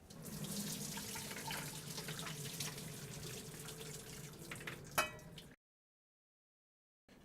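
Boiled red potato wedges are drained in a kitchen sink, a steady rush of hot water pouring close and continuous for about five seconds, ending with a brief splash before silence.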